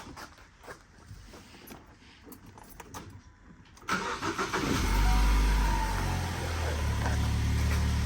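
A 2015 Ford Focus, worked on for an EVAP purge valve fault, starts up after some jangling keys and clicks: a loud crank catches and settles into a steady close idle.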